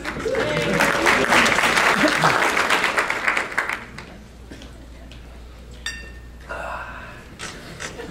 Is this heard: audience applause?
yes